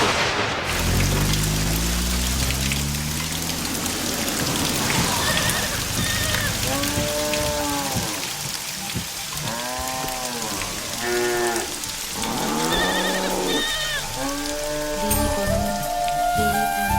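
Rain falls steadily on surfaces in a dense, even patter, overlaid by wavering, sliding tonal sounds that come and go throughout.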